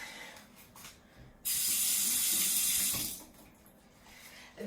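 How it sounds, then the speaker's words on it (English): Tap water runs over fruit being rinsed in a kitchen sink, a bright steady rush for about a second and a half, then cut off, with quieter handling sounds before and after. "Let's give that a little rinse."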